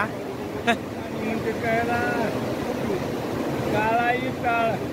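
Steady rushing roar of the flooded Manjara River at Nagzari, Latur, like a swollen river, with people talking over it throughout.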